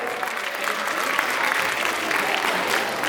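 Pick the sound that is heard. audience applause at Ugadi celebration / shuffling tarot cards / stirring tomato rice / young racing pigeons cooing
audience applause at Ugadi celebration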